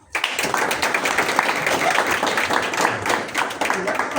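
A crowd at an ustad-shagird ceremony claps to welcome two honored ustad guests, dense, sustained applause filling the room with a voice talking over it.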